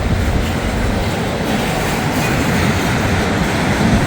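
Train 29F rolls past loud and close with a steady rumble and clatter of wheels on rails, continuous throughout, with no voices.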